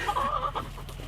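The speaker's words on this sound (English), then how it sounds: "this is the same chicken that's always screaming at me" A hen on a homestead clucks loudly and insistently, a near, throaty run of squawks that fades into softer murmurs, heard alone without talk.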